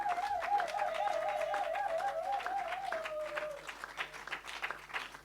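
A church congregation applauding, a steady wash of clapping that thins and turns patchier toward the end, with a sung or held voice tone drifting over the first few seconds.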